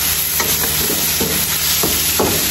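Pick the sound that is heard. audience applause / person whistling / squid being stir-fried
squid being stir-fried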